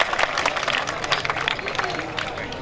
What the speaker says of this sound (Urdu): چودھری صاحب کے لیے بھرپور تالیاں۔